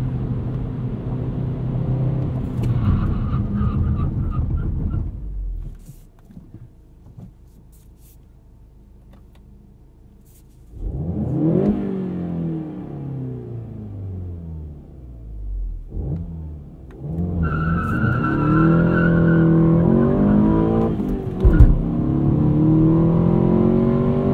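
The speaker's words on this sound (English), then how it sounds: "Do a 60 to 0 brake test here." A 2016 Volkswagen GTI SE with a six-speed manual engine revs hard under acceleration, drops to a near-quiet pause, then pulls again with rising and falling gear-change sweeps, loud and close from inside the cabin.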